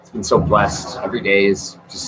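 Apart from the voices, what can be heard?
No everyday noises stand out.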